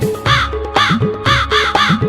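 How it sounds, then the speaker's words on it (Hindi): Crow cawing in a children's rhyme: four loud, harsh caws spaced about half a second apart, close and clear over a steady low musical backing. "कौवा भी आया"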